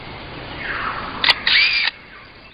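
A lyrebird in the forest mimics a camera with a motor drive: a sharp click, then a buzzing whirr about half a second long, close and clear with no voices.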